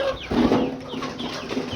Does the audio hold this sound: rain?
no